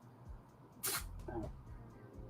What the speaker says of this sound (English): My cat has a cold. He's been sneezing all day.